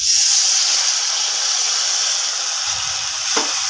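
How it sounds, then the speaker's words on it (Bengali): Potatoes frying with salt and turmeric in a pan, a constant loud sizzle and hiss, with a brief stir or clatter near the end as water is added. "আলুটা ভাজাও হয়ে গেছে, এবার আমি একটু জল দিয়ে দেবো।"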